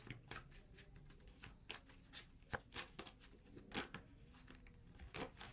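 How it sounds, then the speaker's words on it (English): Tarot cards being shuffled by hand produce a steady run of soft, close riffling taps and flicks, with a few sharper snaps, and no speech. "it's too many, so we're going to keep shuffling here."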